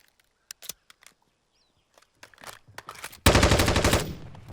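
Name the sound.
Slackman submachine gun reload in Call of Duty video game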